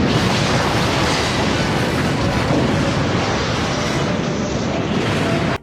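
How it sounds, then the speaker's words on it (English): Explosion of the Krenim ship's temporal core in Star Trek Voyager, a loud, dense, continuous roaring blast that holds steady for several seconds before cutting off abruptly. "Just watch the explosion."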